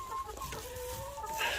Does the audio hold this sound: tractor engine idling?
no